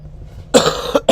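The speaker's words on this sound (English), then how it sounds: "you might still hear me coughing in here a little bit" A couple of sharp, close coughs break a quiet room, the second following shortly after the first.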